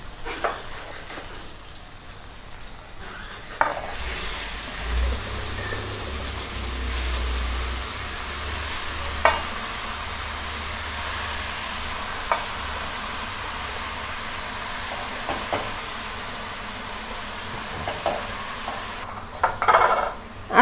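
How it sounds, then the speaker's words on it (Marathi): Spinach stirred into soft cooked tomatoes in a pan for palak paneer, with a low steady sizzle and occasional scrapes and clinks of a spoon against the pan, close and fairly quiet, no talking. "आता याला आपण छान टोमॅटोमध्ये मिक्स करून घेऊया."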